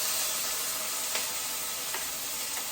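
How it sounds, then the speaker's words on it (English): Peppers and onions hit a hot pan of olive oil with a steady, broad sizzle and a few faint crackles, continuous and fairly loud, with no voices. "I'm going to add my peppers and onions. I'm just going to pop them in."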